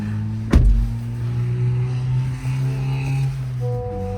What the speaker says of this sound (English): I'm gonna close the windows.